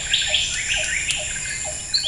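Bird calling in the Borneo rainforest, with short high chirps repeating at a steady pace over a constant high insect drone, heard alone.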